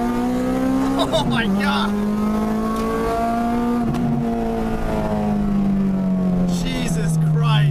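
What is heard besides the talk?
Acura or Honda car with VTEC engine accelerating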